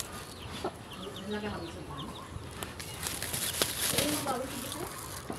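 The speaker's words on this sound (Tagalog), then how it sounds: "Ayan mga manok ko." Farmyard chickens cluck and call close by in a rural yard on a hot morning, irregular bursts of clucking with some background activity, no clear talk.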